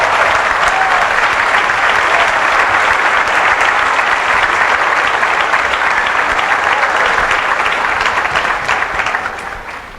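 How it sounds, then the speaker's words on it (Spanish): Sustained loud applause from a large lecture audience welcoming a speaker, dense steady clapping filling the full ten seconds before tapering slightly at the very end. "Recibamos con un fuerte aplauso."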